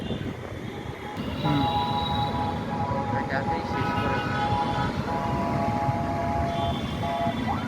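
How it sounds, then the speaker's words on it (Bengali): A train pulls into Bangladesh Secretariat station in Dhaka, rumbling steadily with a high ringing whine of wheels and brakes rising and fading, while a voice speaks over the noise. "ট্রেনটি এখন বাংলাদেশ সচিবালয় স্টেশনে ঢুকে পড়েছে"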